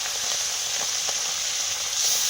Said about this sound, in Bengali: কড়া গরম হয়ে যাওয়ার পরে তেল দিয়ে দিয়েছি, রুই মাছ ভাজছি